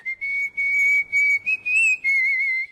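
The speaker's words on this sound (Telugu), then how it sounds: "ఏ విజిల్ అంత బాగుందా?" A person whistles a short tune in a film love scene, clear and close, several sustained notes with brief gaps and small pitch bends, alone without talk.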